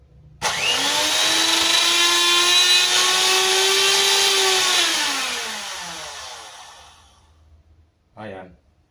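The motor of a Super Mix Turbo electric mixer is run on 220-volt mains after repair and whirs up suddenly, holds a loud steady whine for about four seconds, then winds down and fades, followed by a brief low sound.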